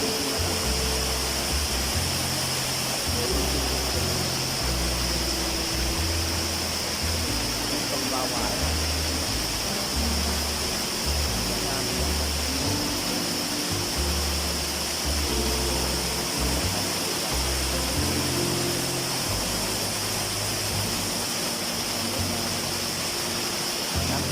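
A waterfall in Thailand rushes in a constant, loud wash of falling water, with a voice speaking over the steady roar.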